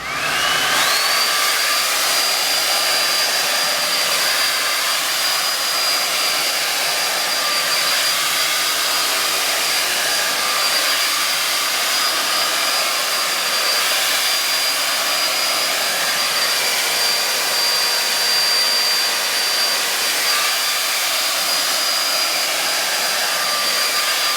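A hair dryer on medium setting blows steadily and loudly throughout, a constant airy roar with a faint high whine and no voices.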